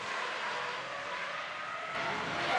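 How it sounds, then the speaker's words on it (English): A 780-horsepower Toyota Supra gymkhana car runs a cone course at a drift championship qualifying session, its engine a continuous distant roar that swells slightly near the end, with no talking. "he pedals his 780 horsepower Toyota Supra"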